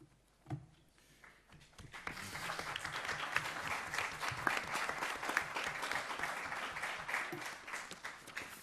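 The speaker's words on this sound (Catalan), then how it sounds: "Un aplaudiment per en Francesc Pujols" Audience at a Catalan book reissue presentation breaks into applause, a sparse clap or two at first, then a sustained, even burst of many hands clapping at moderate loudness.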